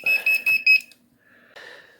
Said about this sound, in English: You can see it's causing it to beep.